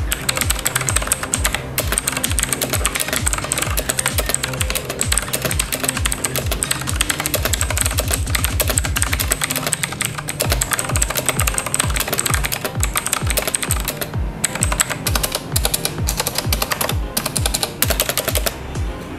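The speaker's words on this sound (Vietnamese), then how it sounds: "các bạn có thể thấy là tiếng gõ của con này kêu khá là to vì nó đang sử dụng switch của Otemu" Fast, continuous typing on a Tailun Titanium mechanical keyboard with loud Otemu switches, close up and dense, with clacky keystrokes running without pause and no talking.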